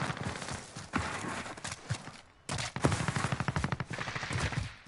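Rapid bursts of automatic gunfire from a first-person shooter game, with weapons like an MP5, M4 and P90, rattling loudly in quick rhythmic volleys with a short pause near the middle.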